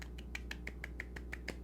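Podcast hosts give a soft golf clap, about eleven light, evenly spaced claps spread across under two seconds, close and quiet, with no talking.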